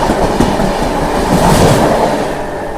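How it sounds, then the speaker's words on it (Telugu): A train bound from Mumbai CSMT to Chennai Central rushes past nearby, a loud sustained roar with rapid clickety-clack of wheels over the rails. "ముంబై సిఎండి నుంచి చెన్నై సెంట్రల్ వెళ్ళే ట్రైన్ ఇది"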